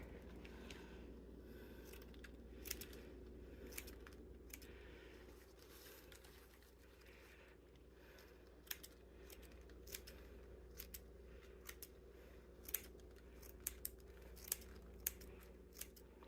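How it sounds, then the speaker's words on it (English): Scissors snip repeatedly, trimming a DIY Valentine's Day craft round, with scattered sharp cuts over steady low background hum and no talking. "I'm just going to trim it down a little. Make it look a little neater."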